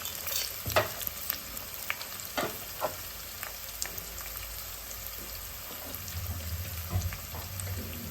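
Onions and green chillies sauté in a pan for a mutton keema balls curry, with a steady soft sizzle and scattered scraping clicks from stirring throughout, no voices.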